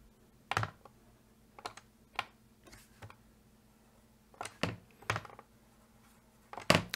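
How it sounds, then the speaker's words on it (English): Computer mouse clicking, a handful of sharp, isolated clicks spaced irregularly in a quiet room, close and faint. "So I can click with this mouse and drag with this mouse"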